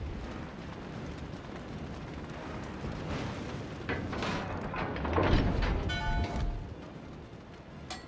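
Heavy naval gun blasts from the battleship Iowa in World of Warships: Legends, deep rumbling booms rising over a low background mid-clip and then fading away.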